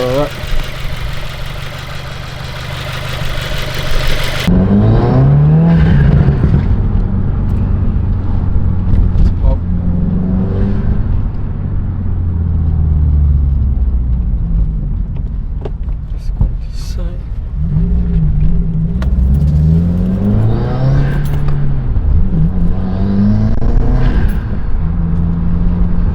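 A Subaru WRX fitted with a new cold air intake idles loudly up close, then the engine revs up and settles back in several swells, with a voice talking over it at times.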